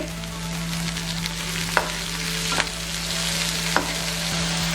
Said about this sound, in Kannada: ಗ್ರೀನ್ ಚಿಲ್ಲಿ ಹಸಿರು ಮೆಣಸಿನ್ಕಾಯಿನ ಒಂದು ಈರುಳ್ಳಿ ಹಾಕಿ ಫ್ರೈ ಮಾಡಿ